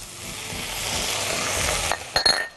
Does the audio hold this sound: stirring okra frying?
yes